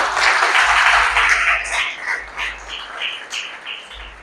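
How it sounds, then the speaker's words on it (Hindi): An audience at a guest lecture in a science college hall gives its teacher a round of loud applause, a dense wash of clapping that is strong at first and slowly thins out. "तो अपने सर के लिए एक बार आप तालियां जोरदार बजा दें"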